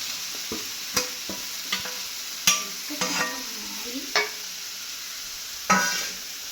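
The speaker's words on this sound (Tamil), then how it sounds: "இப்போ நல்லா வதக்கினா சரிங்க ரெண்டு நல்லா மிக்ஸிங் பண்ணி வதக்கினா சரி" Bitter gourd sizzles in hot oil while a utensil scrapes and stirs the pan with sharp, irregular clacks.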